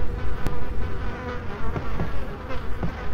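Swarming flies buzz loudly and continuously in the PS2 game Resident Evil 4, the drone wavering in waves close up, with a few faint clicks over it and no one talking.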